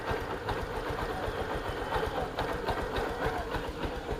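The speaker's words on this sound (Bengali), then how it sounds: "দেখুন এখন বাইকটি স্টার্ট অবস্থায় আছে" Close by, a second-hand Bajaj Discover 110 motorcycle idles with a steady, even, low puttering engine note and no voices over it.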